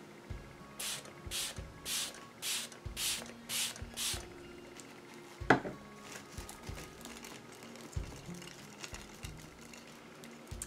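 Several short bursts of a scented face-setting mist spray, pumped in quick succession during a makeup try-on, each a soft airy hiss close to the microphone, followed by quieter handling sounds.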